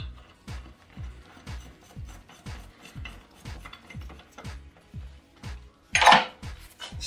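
A crank puller works a bicycle crank off ahead of a Bafang 750W mid-drive motor install, giving a steady series of regular ratcheting clicks and metallic ticks close by, with a louder clank near the end.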